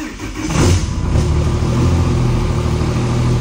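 A truck engine cranks and catches after a kill switch repair, then settles into a loud, steady, close running rumble.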